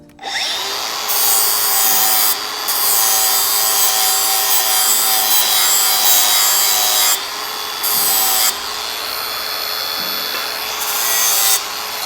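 Lawn mower blade being ground sharp with a tool held at a slight tilt, a loud, steady high-pitched grinding rasp that runs for several seconds, briefly dips twice, then resumes, with no talking.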